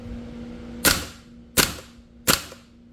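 A VFC Cybergun SCAR-H Mk17 gas blowback airsoft rifle fires three sharp semi-automatic shots. They come evenly spaced about three-quarters of a second apart, each a loud, close crack with a quick metallic tail and no speech.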